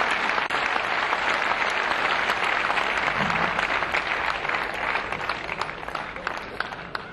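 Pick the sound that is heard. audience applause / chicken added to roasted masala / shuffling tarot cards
audience applause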